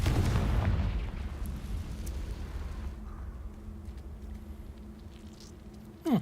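A Confringo fire spell in the Hogwarts Legacy video game erupts as a loud, deep blast at the start, then fades into a lingering rumble with a small pop near the end.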